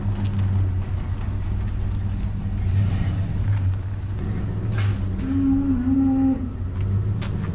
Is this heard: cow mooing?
yes